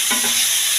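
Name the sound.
hilsa fish head frying in oil while stirred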